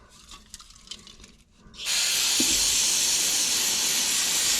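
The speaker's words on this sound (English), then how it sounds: "Let's give it a good quick rinse." Steady loud hiss of running water rinsing a pleated filter, likely an oil or air filter from a Z31 300ZX, starting abruptly after a short quiet stretch and continuing evenly to the end.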